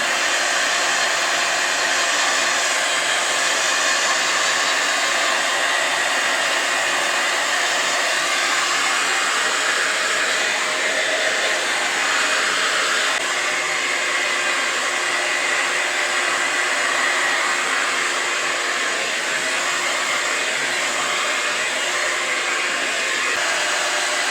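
A BaByliss Air Style 1000 hot air hair styler blows at a steady, loud whooshing roar for the whole stretch, with no speech over it.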